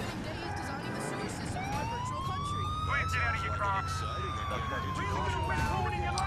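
Police car siren from the video game GTA 4 wails in a rising and falling sweep through a busy in-game chase, steady and moderately loud over engine and traffic noise.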